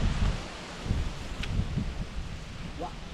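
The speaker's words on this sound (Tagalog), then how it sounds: "Lakas hangin." Strong gusty wind rushing through the foliage of a tall Java plum tree, a broad continuous roar with rustling leaves, steady and fairly loud.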